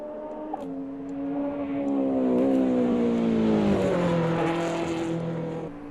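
Spyker CB GT2R race car engine in a racing video game, a loud, smooth high-revving drone that climbs through the gears, with pitch steps at each shift and a slight fade at the end.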